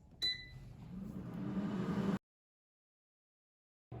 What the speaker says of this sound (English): Now the air fryer is done cooking